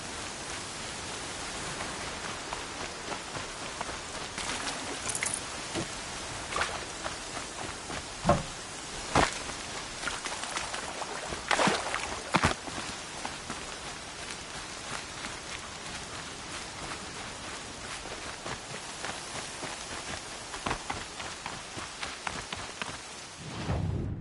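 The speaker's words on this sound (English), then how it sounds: "Here comes the rain." Steady rain falls in the video game Horizon Zero Dawn, a dense, even hiss of drops on surfaces that holds throughout with no voices.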